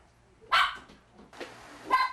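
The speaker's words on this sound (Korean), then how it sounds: "아이고 얌전히 있다가 또다시 짖기 시작하는데요" A schnauzer barks indoors at home: one sharp loud bark, then two more slightly softer barks in quick succession, close to the microphone over a quiet room.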